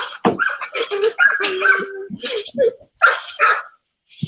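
An American Pit Bull Terrier barks and whimpers in a few short, close bursts, with people talking around it.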